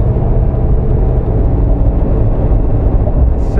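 A Jeep JK fitted with an LT 6.2 engine cruises in 7th gear at about 75 mph, near 2,000 RPM, giving a steady, loud low drone of engine and road rumble with no breaks.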